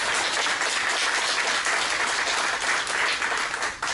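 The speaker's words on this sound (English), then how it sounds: "Give yourselves a round of applause." Loud, dense applause from a seated audience at an awards ceremony honoring a women's federation awardee, a continuous wash of clapping that holds steady before dropping off at the very end.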